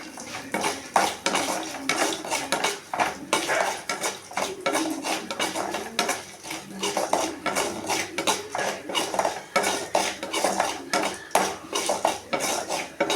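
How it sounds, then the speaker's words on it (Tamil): Urad dal and chana dal being dry-roasted and stirred in a pan for peerkangai chutney, with a steady run of rapid scraping and clinking of a ladle against metal, close and loud, with no talk. "நல்லா செவக்க வதக்கிக்கணும். நல்லா செவக்க வறுத்து எடுத்துப்போம்."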